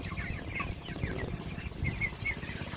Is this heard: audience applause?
no